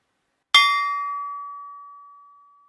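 A piece of steel, such as a pipe, struck once and left to ring like a bell: a single sharp metallic strike followed by a long, clear, slowly fading tone, close and alone.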